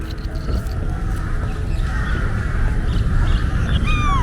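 Birds call in a Bangkok park, with crow-like caws and rising chirps over steady, busy outdoor background noise throughout.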